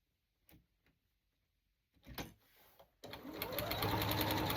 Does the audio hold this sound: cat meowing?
no